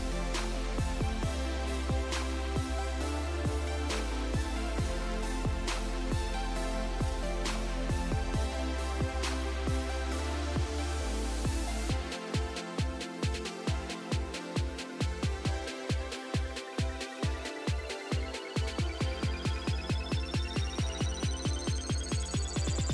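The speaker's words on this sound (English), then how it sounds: "we are going to be using a cover stitch machine to do the stitch" A cover stitch machine sews a hem on stretchy knit fabric: a low motor hum first, then a fast, even run of mechanical pulses as the needles stitch, close and moderately quiet, with no voices.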